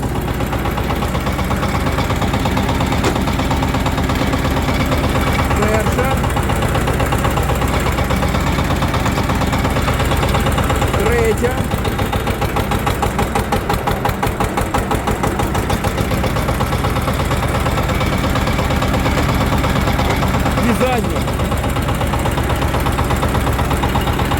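Budget Shifeng tractor engine running steadily as it begins to drive off, a loud close diesel rumble with rapid knocking pulses throughout.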